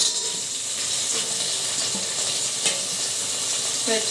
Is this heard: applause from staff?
no